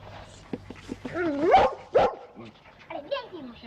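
A farm dog named Taillot gives a few short barks and rising whimpering yelps, close and fairly loud, mixed with a voice speaking nearby.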